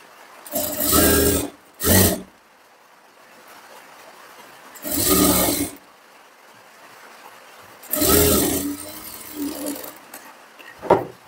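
Sewing machine running in short bursts while stitching the edge of a katori blouse lining, several whirring runs of one to two seconds separated by quiet pauses, close and moderately loud.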